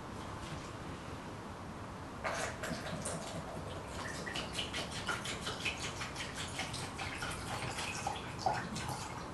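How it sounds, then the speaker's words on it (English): Vinegar is poured into a non-metallic container over a raw egg. A soft liquid splash and trickle starts about two seconds in and runs on with small irregular drips and plinks, close and fairly quiet, with no voices. "Add the vinegar and to cover the egg."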